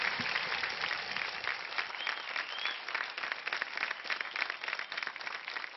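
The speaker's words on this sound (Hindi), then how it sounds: "जोरदार तालियां" Strong, sustained audience applause on the India's Got Talent 4 stage, a dense and steady wash of clapping that fills the whole stretch with no voices over it.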